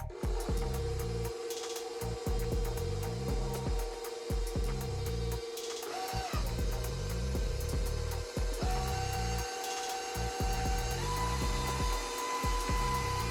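Electric hand mixer whirring through bananas for banana bread, a steady loud motor drone with rhythmic beater clatter against the bowl, pausing briefly a few times before running on.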